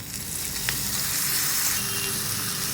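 Sliced bitter gourd, squeezed in yogurt, sizzles steadily in a pan of fried onions, a continuous close hiss with a brief stirring knock and no talking.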